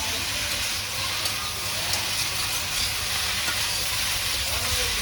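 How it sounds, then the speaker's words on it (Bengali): Fancy shak leafy greens frying in a pan at home over a wood fire, giving a steady, even sizzle and hiss that stays at a constant level throughout with no clear breaks. "শাক তুলে আনছি, শাক ভাজি করবো"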